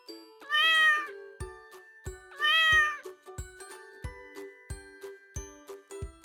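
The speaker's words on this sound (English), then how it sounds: "The cat meows." A cat meows twice, clear and close, with a gap between the cries, over a light repeating tinkly jingle of background music.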